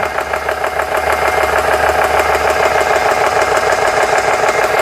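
A repaired GX CS3 compressor runs steadily at speed, a loud, close, continuous mechanical drone with a fast rhythmic knocking pulse throughout and no talking.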